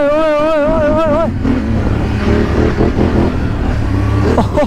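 A Kawasaki ZX-10R superbike drag racing, its engine a loud, steady high-revving roar that climbs in pitch before settling into a sustained rumble, close and continuous.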